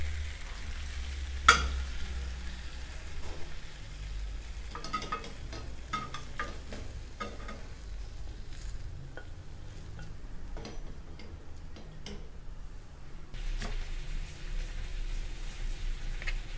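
Lamb browns in oil in a pot for Irish stew, giving a soft, steady sizzle close by with scattered small ticks and pops, and no talking.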